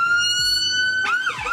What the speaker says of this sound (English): Hold on, siren.